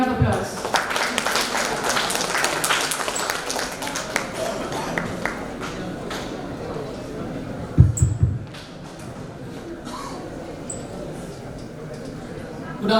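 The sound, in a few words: audience applause welcoming speaker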